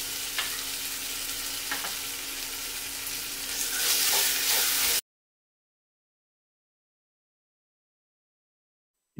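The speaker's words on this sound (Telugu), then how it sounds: "అలాగే ఇందులో 2 టేబుల్ స్పూన్‌ల అల్లం వెల్లుల్లి పేస్ట్ కూడా వేసి పచ్చి వాసన పోయే వరకు వేయించండి." Coconut powder and ginger garlic paste frying in a pan for mutton ghee roast, a close steady sizzle with a few stirring scrapes, swelling slightly louder before cutting abruptly to silence halfway through.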